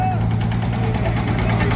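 A tractor engine runs during a tractor trolley pulling competition, a steady low throbbing drone, close and continuous, with voices talking over it.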